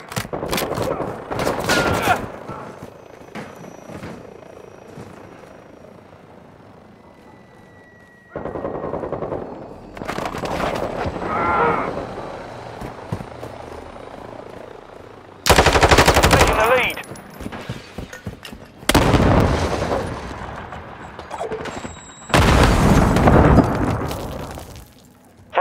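Semtex and stun grenade blasts mixed with bursts of automatic gunfire in the video game Modern Warfare 2, loud heavy explosions and rattling fire in several separate bursts with quieter gaps between.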